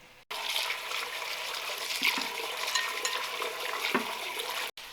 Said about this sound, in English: we are going to wash the lentil and make sure you wash it well